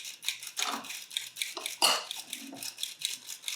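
Dry baking ingredients, including half a teaspoon of baking powder, being sifted for keto waffles: a quiet, steady run of soft scraping and light metallic rattles in a home kitchen, repeating in short bursts with no talk.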